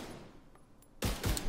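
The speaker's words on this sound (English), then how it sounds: "The way it shoots, the less rounds, you would have to hit all your shots to get the explosion." Ravenous exotic rifle fired in The Division 2, a quiet lull followed by a sudden loud burst of rapid close shots with a sharp crack near the end.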